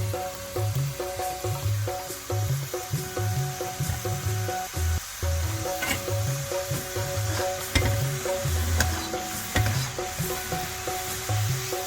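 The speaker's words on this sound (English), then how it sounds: "I am frying the remaining Seedai." Oil sizzles and bubbles steadily as Seedai, a South Indian Janmashtami snack, deep-fry to light golden brown, with occasional soft stirring and scraping sounds over the constant crackle.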